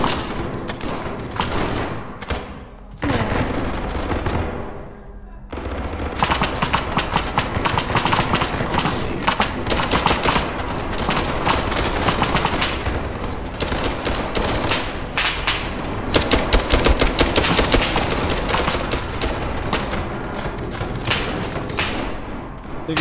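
Dense, continuous video game gunfire with rapid automatic bursts and overlapping shots, loud throughout, as a battle rages while a squad is attacked from both sides.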